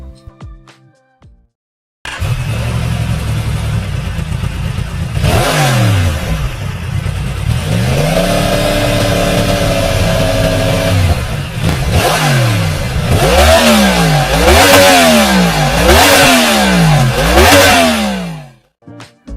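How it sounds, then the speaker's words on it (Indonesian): A Yamaha MT-10 motorcycle engine revs repeatedly, its pitch sweeping up and down in rising and falling swells with a loud intake roar, close and continuous with no talking. "Setiap saluran ini menghasilkan suara intake yang berbeda"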